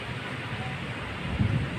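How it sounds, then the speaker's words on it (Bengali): Rain falls steadily during a cool, windy downpour, a continuous broadband hiss that holds even and moderately loud, swelling slightly near the end, with no voices. "বৃষ্টিটা আল্লাহ জোরে দাও জোরে জোরে বৃষ্টি হলে আরো ভালো হবে"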